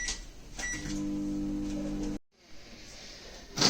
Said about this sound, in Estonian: Ja pane oma roog hästi natukeseks mikrolaineahju.